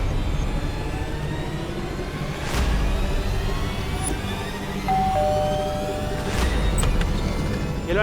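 A short electronic doorbell chime rings once near the middle of the clip, over a steady background hum and a couple of faint whooshing sweeps, in a Hindi children's TV drama.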